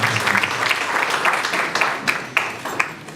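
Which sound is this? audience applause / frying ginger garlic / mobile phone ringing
audience applause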